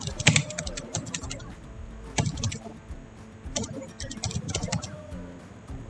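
Quick bursts of clicking keys on a computer keyboard as someone writes Python code, close and fairly soft, pausing between runs of strokes, with no speech.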